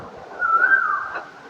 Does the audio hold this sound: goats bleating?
no